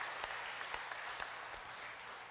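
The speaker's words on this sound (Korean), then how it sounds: "우리 박수로 격려하며 하나님께 영광을 올리겠습니다" A church congregation at a Korean Sunday service claps for the worship orchestra. The applause is soft and distant, a steady crowd patter with a few sharper individual claps standing out.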